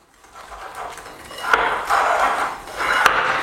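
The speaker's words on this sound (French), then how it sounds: "on vient mélanger donc avec le fouet." A whisk stirs a cornstarch mixture in a bowl, producing rhythmic scraping and clinking swells that grow louder and repeat close by.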